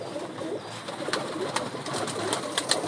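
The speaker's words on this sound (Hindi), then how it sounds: "एक और ब्रीड है कबूतरी" A female pigeon on a rooftop loft gives soft, low cooing over a steady background hum, with a few sharp little clicks or taps scattered through.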